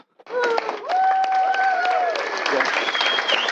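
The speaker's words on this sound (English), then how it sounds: "everyone, we should give a round of applause" A conference audience breaks into applause that swells quickly and holds steady, loud and dense, while a voice carries on over the clapping.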